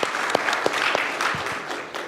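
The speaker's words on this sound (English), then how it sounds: "can we get a round of applause for the panel really quickly?" Audience applause for a business panel: steady clapping from a room full of people, loud and close, with a few sharper individual claps standing out over about two seconds.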